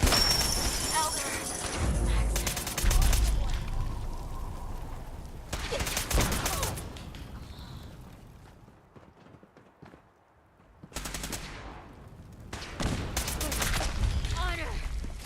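Fallout 4 weapon fire erupts in several short, loud bursts with quieter gaps between them. Hoof-like clatter and game voices are mixed in.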